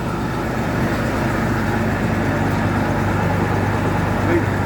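Threshing machine drum and counter shaft running on a Model C, driven by belt and chain, giving a steady low mechanical drone and rumble with faint talk over it.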